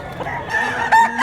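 A rooster crows close by in one short, loud burst, with some clucking and farmyard noise around it.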